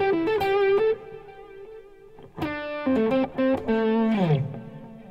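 Electric guitar notes played through a delay effect, bright plucked tones ringing out in short phrases with echoing trails fading behind them and a final bending slide.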